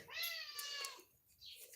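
A male cat gives one clear, drawn-out meow followed by a softer short one, close by and fairly quiet, with no talk over it.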